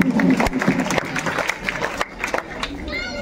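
An audience of children at a district-level exam results ceremony bursts into applause that runs throughout, with scattered crowd noise and a voice speaking over the clapping.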